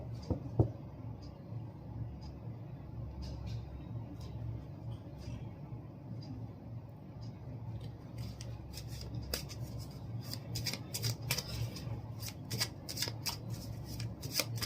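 Tarot cards are shuffled in continuous soft riffling and flicking, quiet and close, with crisper card snaps toward the end.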